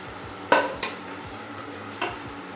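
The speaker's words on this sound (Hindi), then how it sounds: "इसमें हम डालेंगे जो गरम मसाले थे साबुत, वो इसके अंदर मैं ऐड कर दूंगी और हल्का सा इसको भी फ्राई करेंगे ऑयल के अंदर" Whole garam masala spices dropped into hot oil for a white lobia curry, a soft steady sizzle with a few sharp stirring clinks and spoon scrapes against the pan, close and without talk.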